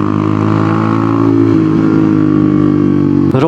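A Royal Enfield Hunter 350 fitted with an aftermarket megaphone exhaust idles loudly and close, a steady thumping burble that holds even before a quick throttle blip at the end.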